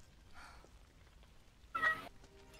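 Two short cat meows in the video game Final Fantasy VII Remake Intergrade, the first soft and the second louder and sharper, against a quiet background.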